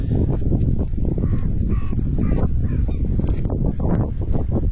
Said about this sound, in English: Crow chirping away there.